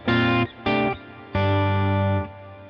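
An electric guitar on the bridge pickup runs through a Vox AC30 amp model on a Fractal Axe FX at moderate gain, giving slight breakup. Three sustained chords ring out, the last held longest, with chorus-like shimmer and no talking.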